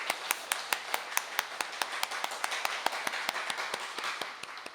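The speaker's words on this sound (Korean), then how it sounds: "우리 사랑하시는 주님께 우리 감사의 박수를 올리겠습니다" A church congregation at an early-morning prayer service claps in thanks, steady rhythmic claps repeating about four or five times per second, fairly close and clear with little else behind them.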